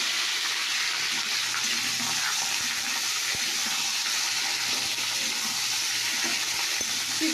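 Five-spice seeds tempering in hot oil give a steady, dense sizzle and crackle, loud and continuous throughout with no voices over it.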